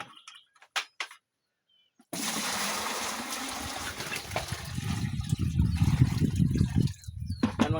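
Water poured into a chicken waterer, a steady splashing gush that starts abruptly after a few faint knocks and continues loudly to the end, no voices.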